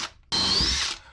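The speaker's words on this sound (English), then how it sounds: "I'm just putting the first screw in as soon as I drill it" A power drill bores a screw hole into the wooden hull of a boat under restoration, whining steadily at high pitch for about a second after a brief pause.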